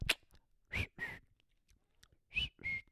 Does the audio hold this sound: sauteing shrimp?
no